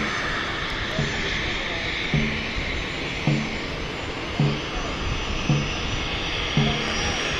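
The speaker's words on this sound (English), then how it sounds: "It is the NetJets, and it is the Bombardier Challenger 350." A NetJets Bombardier Challenger 350 business jet at London City airport gives a steady, broad engine roar that holds throughout, with faint voices and periodic low rhythmic knocks underneath.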